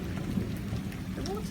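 A thunderstorm with steady rain and a low, continuous rumble of thunder, heard at a moderate distance with no clear break in the wash of sound.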